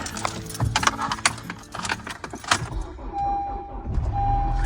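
An old car starting on a cold morning: a busy run of clatter, rattles and cranking bursts up close, settling into a steady low idle with a thin whine over it.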